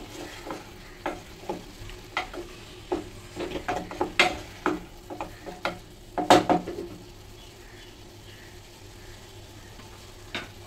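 Veg mutter pulao with basmati rice, coriander and Schezwan fried rice masala is stirred in a sizzling pan, with a steady run of sharp spoon scrapes and clinks over a soft fry hiss, then the stirring stops and only a faint sizzle remains.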